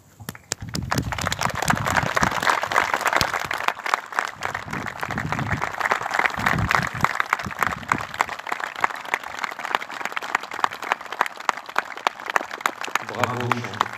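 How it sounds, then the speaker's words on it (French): A gathered audience at a French auction sale claps in tribute, sustained applause that runs on steadily and loudly with scattered cheers, fading slightly toward the end. "Je voudrais qu'on applaudisse Jean Boileau pendant une minute."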